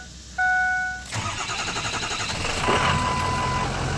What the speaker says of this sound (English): This truck, it starts amazing.